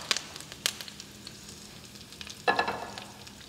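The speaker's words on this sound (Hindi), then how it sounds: "अब हमारा ये पूरा तड़का जो है ये हम साथ में ही डाल देंगे, थोड़ा सा कवर कर देंगे ताकि हमारे ऊपर तेल ना आए छींटा" A mustard seed tempering is poured into hot oil for tamarind rice and crackles loudly at the moment it lands, with scattered sharp pops and a steady sizzle continuing around it.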